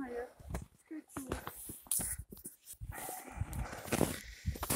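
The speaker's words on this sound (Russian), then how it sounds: "Там наверху бегают две большие овчарки." Two large shepherd dogs bark somewhere up the slope on a winter walk in a mountain village in North Ossetia, the barks faint and scattered under close speech.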